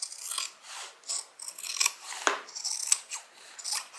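Scissors snip through layered fabric of a quilted carryall bag, with several short, close cuts and a faint rasping rub between them; nobody speaks.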